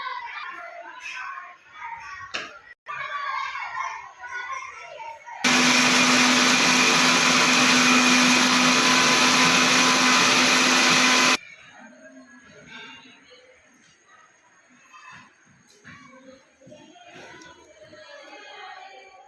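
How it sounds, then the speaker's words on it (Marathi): A mixer grinder blends flower petals and leaves into a liquid for natural dye, giving a loud, steady motor whir for about six seconds. Speech is heard before and after the whir. "आता ही सर्व पाने तसेच फुले आपण मिक्सरच्या सहाय्याने त्याचे द्रावण करून घेणार आहोत"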